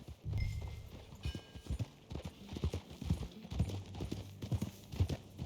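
A horse in the Red Dead Redemption 2 video game clip-clops along in a steady walking rhythm, hooves close and clear throughout.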